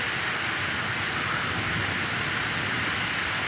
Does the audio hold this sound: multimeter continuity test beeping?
no